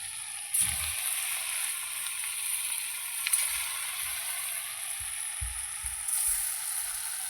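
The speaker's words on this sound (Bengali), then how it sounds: "তেল গরম হয়ে গেছে, এবার আমি এরকম শেপের করে সবগুলো ভেজে নেবো একে একে" Jackfruit pakoras frying in hot oil, a steady bright sizzle with soft bursts as pieces drop in one at a time, quiet and even.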